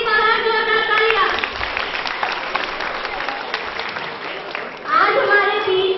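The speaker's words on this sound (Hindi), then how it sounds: "सर के लिए जोरदार तालियां" Applause from an audience at an Independence Day program at a district education institute, steady dense clapping throughout with voices mixed in at the start and end.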